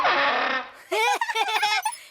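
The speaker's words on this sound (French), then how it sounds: "Et voici le papillon à turbine." A cartoon turbine butterfly, a fictional creature-instrument, gives a whirring rush that drops away, then a string of wobbly, swooping tones in quick succession.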